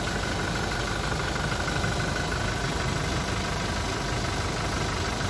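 Toyota Innova 2018 with a 2400 cc diesel engine idling, a steady continuous clattering hum heard close up with no speech.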